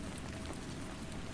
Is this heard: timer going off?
no